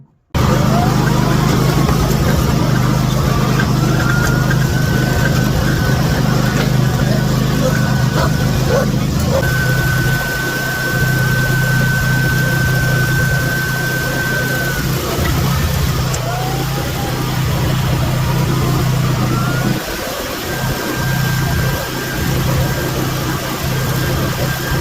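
A small tractor engine idles and runs steadily, close and fairly loud, with a low drone and some pitch shifts as it revs, while a person talks over it.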